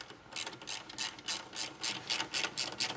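A ratchet wrench clicks steadily as it tightens a nut, about ten even, close, crisp strokes in a regular back-and-forth rhythm with no talking.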